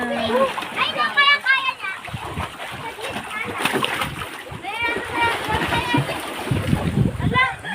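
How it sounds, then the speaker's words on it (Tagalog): A child splashes and sloshes water in a portable swimming pool, with lively splashing throughout and children's voices chattering and calling over it. "Sil, naligo na si Yana."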